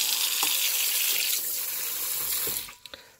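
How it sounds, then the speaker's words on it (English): Steady broadband rush of water running from a kitchen sink faucet in a newly fitted house, loud and continuous for most of the moment, then cut off near the end with a few faint drips and clinks. "There's a running faucet. Look at this, running water."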